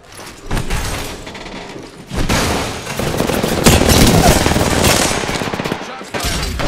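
Rapid automatic gunfire bursts rattle loudly during Apex Legends gameplay, dense overlapping shots with brief pauses between volleys, up close with game sound effects around them.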